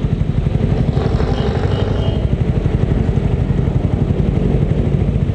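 A bored-up Suzuki Raider 150 motorcycle fitted with a 32mm Koso carburetor idles up close, its engine putting out a loud, rapid, even low-pitched thrum that stays steady throughout with no speech.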